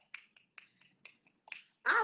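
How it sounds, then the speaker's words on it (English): Scattered finger snaps from an audience come as a handful of crisp, separate clicks spaced apart, followed by a louder burst of noise at the end. "finger snaps."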